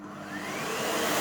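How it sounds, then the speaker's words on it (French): A vacuum cleaner starts up on a rug, its motor whine rising steadily in pitch and loudness over about a second, close and alone. "On va prendre un aspirateur. Voilà, je l'ai ici. On va le démarrer."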